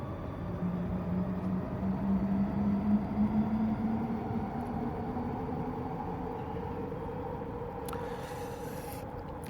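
A train rumbles past steadily at moderate distance, a continuous low roar with a faint rising tonal whine, heard alone with no talking over the passage.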